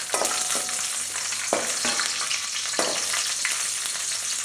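Raisins fry in a pan of hot fat while rava laddu is being made, giving a loud, close, continuous sizzle with periodic stirring scrapes and no talk.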